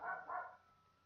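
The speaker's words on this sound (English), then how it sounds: "And excuse my dog. I think she's just a little happy." A pet dog barking indoors, two quick, muffled barks at moderate distance followed by quiet.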